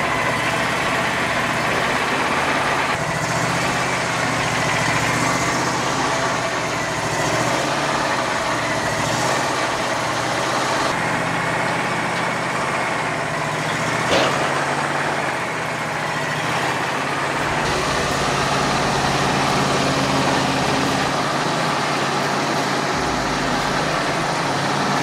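Wood-Mizer sawmill running steadily while cutting a monkey pod log into 2.5 inch boards, a constant loud engine-like drone with slight shifts in pitch throughout.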